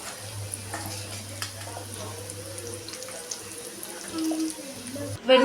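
Chickpeas deep frying in hot oil give a soft, steady sizzle with faint stirring and utensil clinks, a low hum beneath, and a louder clatter at the very end.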